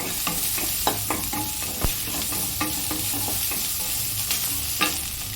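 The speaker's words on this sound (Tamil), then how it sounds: "ஒரு 2 பச்சை மிளகாவும் கருவேப்பிலையும் வச்சுருக்கேன், அதையும் மிக்ஸ் பண்ணிக்கிறேன்." Green chillies and curry leaves sizzle in hot oil as they are stirred, a steady close frying hiss broken by repeated sharp spatula scrapes against the pan.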